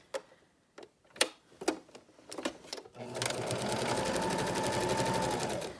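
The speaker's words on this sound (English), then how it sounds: "sewing with the polyester batting like this can be a little fussy" A sewing machine stitches a quilt with polyester batting in a fast, steady run of close mechanical ticks, after several scattered clicks and knocks of setting up.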